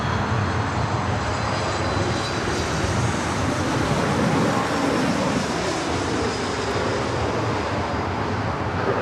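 A United airliner roars at Los Angeles International Airport, a loud, steady, broad jet-engine rumble that holds without a break.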